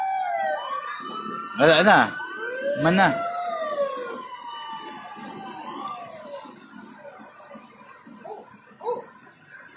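Wailing fire truck siren at a Manila street fire in Sampaloc, rising and falling in repeated sweeps, fairly close and loud at first then fading, with people talking in Tagalog over it.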